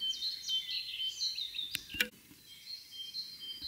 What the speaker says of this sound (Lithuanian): išraiškingiausiai kol kas didžioji zylė čia skamba